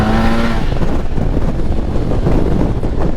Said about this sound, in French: Alors là on n'est pas sur le bruit d'origine, on a un pot Accra mais avec la chicane.